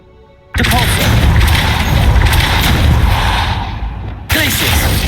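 A Depulso force spell cast in Hogwarts Legacy lets out a loud, sustained blast of rushing, crashing energy that cuts off abruptly, then a second burst starts right after.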